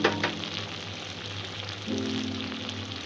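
Spice masala with turmeric sizzling and frying in a pan over a medium-low gas flame for a jackfruit curry, a steady close crackle with a brief stir near the start.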